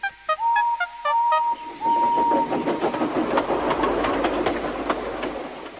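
Steam whistle blasts from a cartoon tank engine, followed by rhythmic chuffing and rail clatter as it pulls into a station in a children's animated show; loud and close, with no talking.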